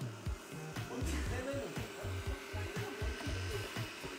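A household vacuum cleaner runs during a home cleaning in a house with lots of pet fur, a steady rushing whoosh broken by rhythmic bumps and scrapes as it is pushed around.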